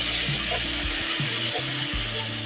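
Chopped tomatoes sizzling in a pan of frying veg dal base, a steady close hiss and crackle with faint stirring, no voices.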